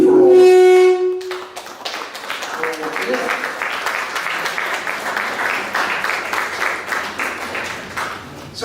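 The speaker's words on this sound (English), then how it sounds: "how about a nice round of applause from all of you" An audience at a senior reception breaks into sustained applause after a speaker's voice trails off, a dense crowd of clapping hands that holds steady for several seconds before easing.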